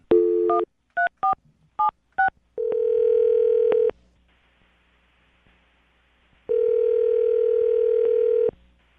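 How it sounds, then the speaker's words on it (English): Phone keypad tones beep one after another, followed by a steady dial tone that stops, then returns for a couple of seconds. "Dial the phone number right now."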